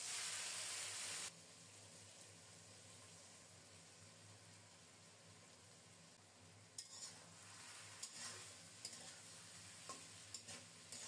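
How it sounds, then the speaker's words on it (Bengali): Chopped onions frying in tempered oil for a fish dish, sizzling steadily and stirred with a utensil; a loud hiss opens the clip, then a softer continuous fry with occasional scraping clicks toward the end. "কুচানো পেঁয়াজ ফোড়নে দিলাম। নেড়ে চেড়ে পেঁয়াজটাকে লালচে করে ভেজে নেব।"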